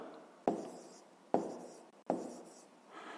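A pen or marker writes out a fifth-grade decimal maths answer by hand in three quick strokes, each with a sharp onset and fading scratch, close and clear with no talking.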